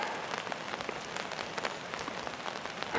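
Heavy rain pours down on the ground outdoors, a dense, steady patter of drops with scattered sharper splashes, fairly soft and unbroken with no voices.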